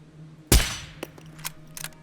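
A single suppressed gunshot in the video game Scum cracks sharply and then decays, followed by a few faint mechanical clicks and clacks in an otherwise quiet scene.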